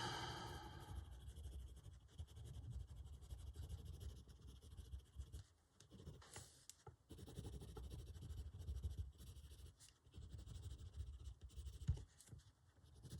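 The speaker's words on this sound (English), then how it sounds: "So I am pressing quite hard with the pencil, as you can probably tell, because we are starting to burnish now." A coloured pencil is pressed hard onto paper to burnish, giving a continuous soft scratchy shading sound in long back-and-forth strokes, close and quiet, with brief pauses and faint breathing.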